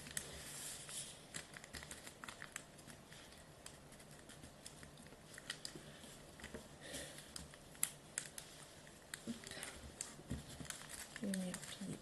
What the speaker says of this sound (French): Vous allez venir plier comme ceci par-dessus